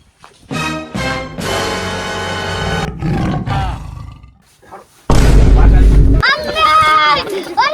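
Several loud, deep tiger roars with rumbling growls in between, close and powerful, followed by another big roar and a higher snarling cry.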